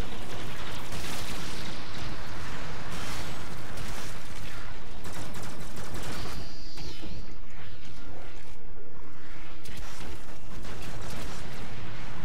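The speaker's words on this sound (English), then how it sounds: "I just killed him with a grenade bounce" Grenade explosions and gunfire from the Penta grenade launcher in the video game Warframe keep up a loud, dense barrage of blasts and crackling shots, with a brief mechanical whine partway through.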